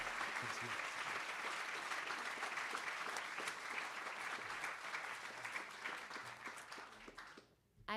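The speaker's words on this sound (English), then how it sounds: "let's give up another huge round of applause for all of our speakers." An audience at a speaker series event claps for the speakers in a long, dense round of applause that holds steady and then tapers off at the end.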